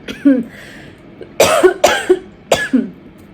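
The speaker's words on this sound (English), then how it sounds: "I don't know why I feel like I have to cough." Someone coughs up close: a small throat-clearing cough, then a quick run of three loud, harsh coughs.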